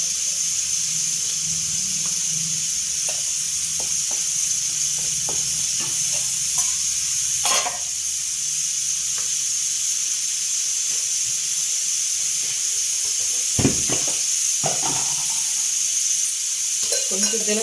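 Dried red chillies fry in a pan of hot oil for a lentil and cucumber chutney, a steady soft sizzle punctuated by scattered crackles and a few louder clatters of stirring.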